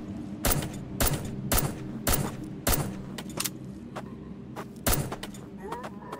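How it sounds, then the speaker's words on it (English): Enemies fire guns in the survival game Plains of Pain: sharp, loud single shots ring out at a fairly regular pace, roughly twice a second, over a low background hum. "Got low life shooting at us."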